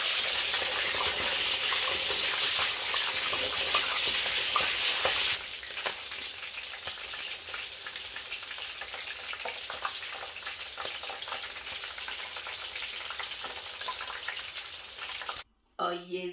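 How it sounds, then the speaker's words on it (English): Fish frying in hot oil for a red fish stew, a steady loud sizzle that drops to a quieter crackle partway through and continues with occasional pops. "You see how stressful it is to fry fish."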